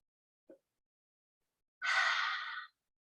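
A big exhale through the mouth at the end of a guided yoga relaxation: a soft, breathy rush lasting under a second, preceded by a brief faint inhale, heard alone in a quiet room.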